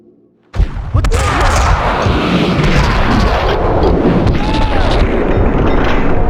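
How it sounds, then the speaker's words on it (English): Gunfire and explosions in the PC video game Max Payne 2 erupt after a brief quiet, loud dense booming and rapid shots rolling continuously. "Someone must have heard the gunfire."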